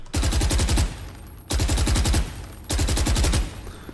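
Automatic gunfire in Valorant comes in three loud, close bursts of rapid shots, each lasting under a second with short silent gaps between, and no voices.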